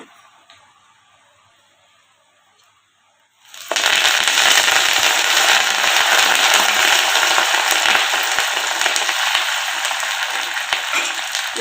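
Curry leaves hit hot oil for tempering a leafy greens tamarind stew, a sudden loud burst of crackling and spattering after a quiet start, then steady dense sizzling close to the pan.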